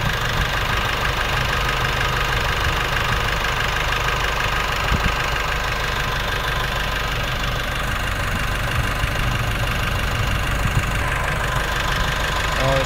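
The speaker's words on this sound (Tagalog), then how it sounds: "tumataas na po ang kanyang RPM pero hindi nag-engage yung ating compressor, ating plate" A Nissan Navara Calibre engine runs steadily at raised RPM with its A/C compressor failing to engage, giving a loud, continuous mechanical drone close by with no change in tone throughout.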